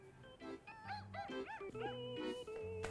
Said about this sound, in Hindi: पीछे थोड़ा कुत्ते की आवाज आई।